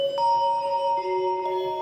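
A sustained, bright synthesized bell tone from the Omnisphere software instrument, with layered ringing partials and a soft note change partway through. The sound is clean and steady with no voices.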